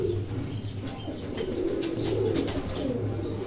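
A breeder's pigeon coos in low, rolling repeated phrases close by, with faint chirps and light background noise and no speech.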